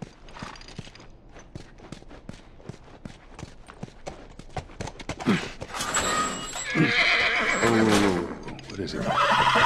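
A horse in the video game The Last of Us whinnies loudly and nearby while hooves clip-clop in a steady rhythm, the neighing rising toward the end over the footsteps.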